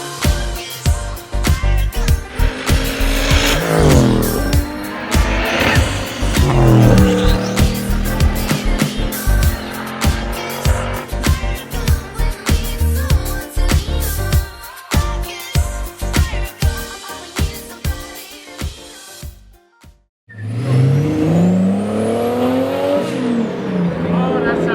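A driver's project car warms up on a race track, its engine revving hard through gears with rising and falling pitch and brief tire squeal, loud and close, with voices talking over it; a short quiet gap comes before revving resumes.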